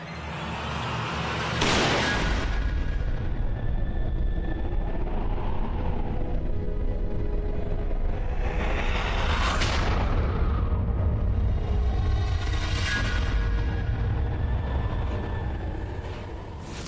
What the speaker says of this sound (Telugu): కానివ్వండి, పేల్చండి తుపాకీ.